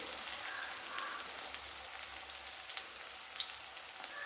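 Onions sautéing in a pan for chicken gravy give off a soft, even sizzle with faint crackles, quiet and steady throughout, with no voices.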